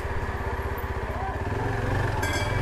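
A motorbike rides along the road toward Neelkanth Mahadev temple near Rishikesh, its engine a steady, close pulsing drone with possible voices mixed in.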